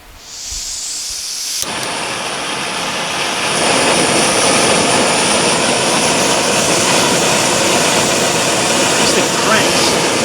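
A Foxelli backpacking gas stove screwed onto a fuel canister lights with a sudden burst, then burns at full flame as a loud, roaring hiss that swells stronger and holds steady.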